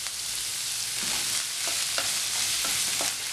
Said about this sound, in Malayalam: ഇനി ഇതെല്ലാം കൂടെ നന്നായിട്ടൊന്ന് വഴറ്റിയെടുക്കണം